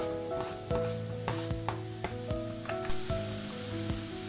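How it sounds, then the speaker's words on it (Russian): Onions and button mushrooms frying in vegetable oil in a pan, a soft steady sizzle broken by repeated clinks and scrapes of stirring, close and moderately quiet. "И добавляю растительное масло, чтобы лук с шампиньонами обжарились немножечко слегка"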